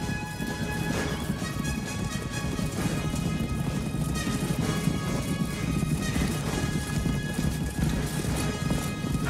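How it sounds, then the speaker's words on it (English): Massed horses gallop through a night battle scene in the 1995 film First Knight, their dense, rumbling hoofbeats pounding steadily and continuously, with occasional whinnies mixed into the din. "Oh, the horses."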